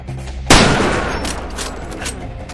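A single sharp gunshot in the video game Far Cry 2 cracks out loudly, then rings into a long echoing tail with a few fainter pops behind it.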